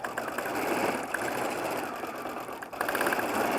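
A sewing machine runs continuously and steadily while stitching thread-painting details on a wall hanging, close and fairly loud.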